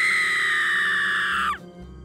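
A woman's loud, high, sustained scream, held for about a second and a half before breaking off abruptly into low background noise.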